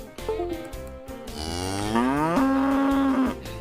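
Cattle moo loudly and close as a podcast intro effect, with a short low call followed by a long, drawn-out rising and sustained bellow.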